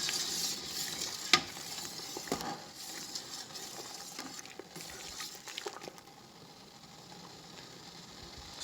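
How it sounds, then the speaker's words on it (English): Maple syrup boiling down in a pan while being stirred, a soft steady bubbling hiss broken by spoon scrapes and clinks, with no talking. "And you just want to make sure that you continue to stir"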